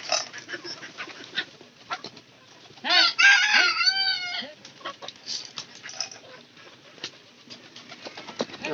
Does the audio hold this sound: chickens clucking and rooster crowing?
yes